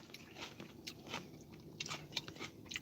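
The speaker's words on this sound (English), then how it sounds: "let me finish chewing" Someone eating food up close, with crisp biting crunches and chewing in an irregular rhythm, fairly quiet and without talk.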